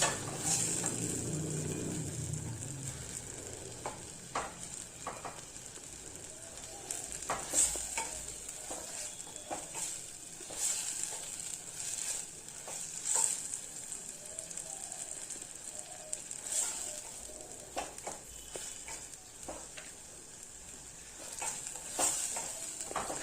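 Mixed vegetables with onion and half-melted tomato stirred and fried in a pan: a quiet, steady sizzle with irregular ladle scrapes and clicks spread throughout, fairly faint.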